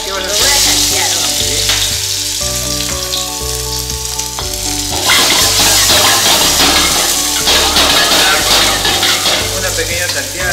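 Chopped chonta palm heart sizzles loudly as it is sautéed in a hot pan, with steady frying hiss and occasional stirring clinks over background music.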